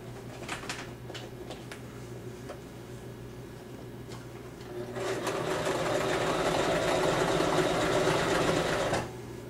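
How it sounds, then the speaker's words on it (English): A sewing machine stitches puppet fabric in steady, close, continuous running, with soft ticks early on before the motor runs louder and faster for several seconds, then stops. "I'm going to sew a pretty good portion of the front"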